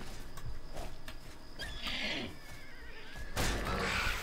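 A horse in the Oblivion video game neighs and whinnies loudly, with hoof clip-clops and game sounds around it; a second sharp whinny bursts in near the end.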